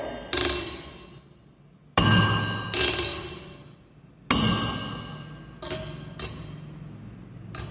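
A steel tiffin box rung by a vibrating object touching it in a classroom physics demonstration: about six sharp metallic dings, each with a ringing, fading tail, close and alone.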